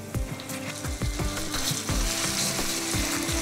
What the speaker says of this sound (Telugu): ఇప్పుడు మనం గ్రైండ్ చేసుకున్న టమాటాలు వేసుకోవాలి.